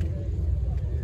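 An Audi RS5 engine idles with a steady low rumble at a car meet, a close continuous drone with faint voices mixed in.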